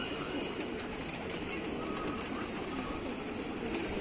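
Pigeons in a loft cooing softly under a constant broad background hiss, with low throaty coos repeating at a distance and faint voices in the background.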